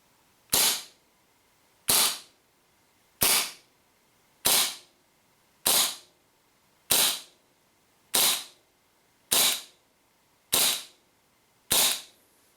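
Ten sharp, evenly spaced shots from WE P38 gas blowback airsoft pistols, standard and long-barrel versions, each a loud crisp crack with a brief gassy tail, fired at a steady slow rhythm about once every one and a quarter seconds with nothing else heard.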